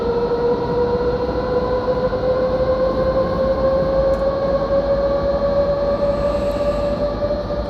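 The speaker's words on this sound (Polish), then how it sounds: "6400 kW jest w stanie tutaj pociągnąć skład i nawet dość żwawo się rozpędzić." A BR 189 electric locomotive in Train Simulator Classic hauls a freight train of new cars, giving a steady, continuous drone with a rising tonal whine and rumble as it gathers speed, loud and uninterrupted.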